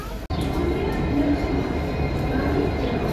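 Pune–Amravati special fare train 01439 pulling into platform 3 at Pune Junction, a steady, close rumble of rolling carriages that fills the whole stretch with an even mechanical roar.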